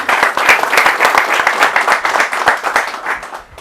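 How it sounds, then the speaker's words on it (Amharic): Dense, continuous applause from an audience, many hands clapping close and loud for several seconds before tapering slightly at the end, given during a surprise celebration for a musician. "ጭብጨባ ለክርስቲያን።"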